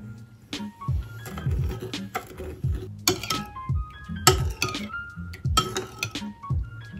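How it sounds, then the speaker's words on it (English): A spoon stirring lemon juice and sugar into a syrup, giving repeated close, bright clinks and scrapes against a glass or bowl in an irregular rhythm, with no talking. "taking a spoon, I'm just going to mix the two together to create like a lemon syrup"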